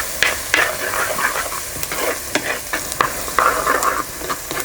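Thinly sliced onions fry and sizzle steadily in a pan for a tomato curry, with a spoon scraping and stirring through them in repeated close strokes and no talking.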